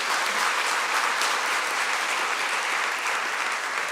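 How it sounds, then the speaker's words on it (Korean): A church congregation claps loudly during an elder installation worship service, a dense, even roar of applause holding steady throughout with no speech over it. "크게 박수하고 자리에 앉으십시오."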